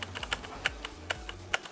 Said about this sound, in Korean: 제가 타건을 해봤는데요